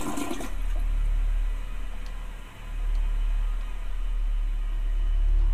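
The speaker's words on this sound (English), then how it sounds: "Flush the turd." A toilet flushes inside the video game Deliriant, a loud, close rush of water that swirls and drains steadily for several seconds with a low gurgling underneath.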